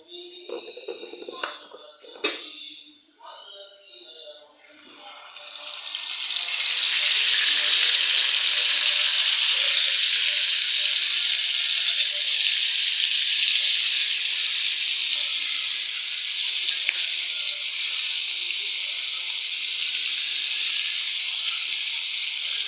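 Turmeric and chili coated fish hits hot oil on a tawa, a loud continuous sizzle that swells after a few seconds of clatter and holds steady, close by.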